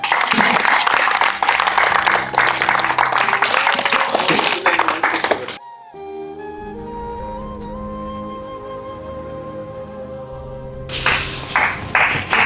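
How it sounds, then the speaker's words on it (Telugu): Hearty applause from a crowd at a Mother's Day gathering fills the first five seconds, gives way to a stretch of tonal music, then returns briefly near the end. "చప్పట్లు కొట్టండి"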